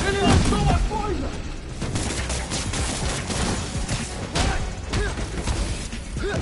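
Gunfire in Spider-Man: Miles Morales on PS4, a dense spread of shots and impacts running the full length alongside music, mechanical effects and a voice speaking.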